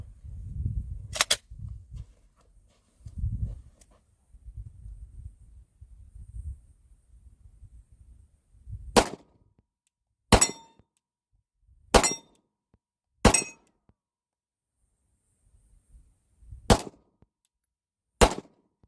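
Glock 17 Gen 5 pistol firing six single shots at uneven intervals, sharp and loud against near silence, after a stretch of low rumbling handling noise.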